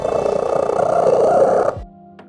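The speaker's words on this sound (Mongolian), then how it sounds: "Муурны хамгийн чанга хүрхрэх чимээ гэх мэт." A cat purrs loudly and close up, a steady rumbling drone lasting nearly two seconds before stopping abruptly; it is the kind of purr entered for the loudest cat purr record.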